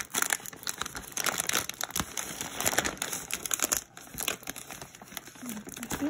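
Plastic packaging crinkles and crackles up close as it is worked and sliced open, in busy irregular bursts.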